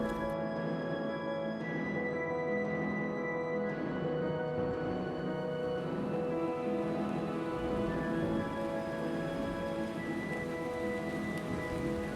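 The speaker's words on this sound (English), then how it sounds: "Lothlorien was clothed with the grey mist of rain when Earelda and Dinfea arrived." Steady rain falls continuously with a dense, even hiss and low rumbling underneath, a soft storm backdrop with no voices.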